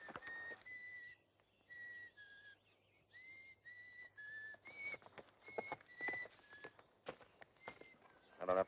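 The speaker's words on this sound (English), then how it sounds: "I have to listen to bad whistling, too." A person whistles badly in short, wavering, off-pitch phrases, fairly quiet and close, with faint footsteps and shuffling in between.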